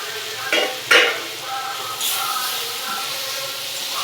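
Fried potatoes are stirred with spices in a frying pan for cauliflower kofta curry, giving a steady sizzle with a few sharp scraping stir strokes near the start and a softer stir later.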